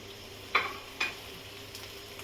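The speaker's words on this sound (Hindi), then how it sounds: "तेल अच्छी तरह गर्म हो चुका है, इसमें मैं परवल को डाल रही हूँ।" Pieces of pointed gourd (parwal) hit hot oil in a pan with two quick, sharp sizzling bursts, followed by a faint, steady frying hiss.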